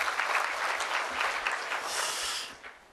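A conference audience at a 2013 regional jobs and economy event applauds as a lawmaker is welcomed, a full, even round of clapping that tapers off toward the end.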